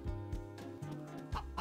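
Chickens cluck softly on a farm in the video game Harvest Moon: Magical Melody, short repeated clucks over faint game music, quiet and brief.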